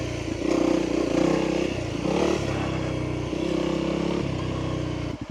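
A Honda CRF300L dual-sport motorcycle rides off-road near muddy trail spots, its single-cylinder engine droning and surging through throttle changes, with clatter and scraping from the terrain, heard up close and alone.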